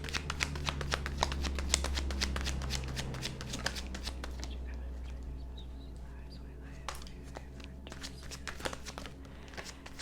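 Tarot cards being shuffled by hand for a pick-a-card reading, a steady close riffle of crisp card flicks and slides over a low hum, with faint speech.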